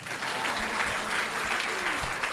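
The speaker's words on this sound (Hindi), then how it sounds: "एक बार इन जुगल जोड़ी के लिए ताली बजाओ" Crowd applause rises for a couple at a large Hindu religious gathering, a dense, even wash of clapping that stays loud throughout the brief moment.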